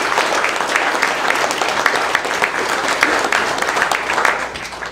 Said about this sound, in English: giving him a round of applause